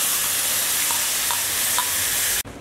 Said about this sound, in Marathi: ह्याच्यामध्ये हा आपला चिंचेचा जो गोजू आहे तो घालू।